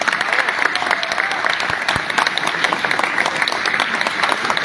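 Loud, dense applause fills a political gathering in Agua Prieta welcoming a former deputy, a continuous roar of many clapping hands with a few sharper claps standing out.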